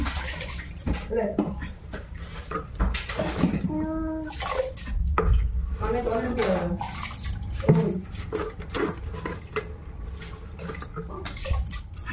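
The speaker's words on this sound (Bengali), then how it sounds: "দেখো এবারে আমি হাঁড়িতে চাল দিয়ে দিচ্ছি।" Washed rice goes into a cooking pot with wet splashing and sloshing water, plus scattered clinks of grains and metal, close and continuous, with a brief voice in the middle.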